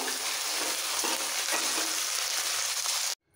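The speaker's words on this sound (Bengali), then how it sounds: "দুবারে মাছগুলো ভেজে নেব।" Rohu fish pieces fry in hot mustard oil with a dense, steady crackling sizzle and faint stirring scrapes, cutting off abruptly near the end.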